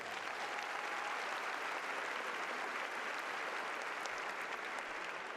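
A large crowd at a high school graduation ceremony applauds continuously, a steady, even wash of clapping heard from a distance and fairly faint throughout.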